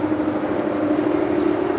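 Boeing 787-8 Dreamliner departing Los Angeles International Airport, a steady, moderately loud jet roar with a broad mid-range hum that holds evenly without voices.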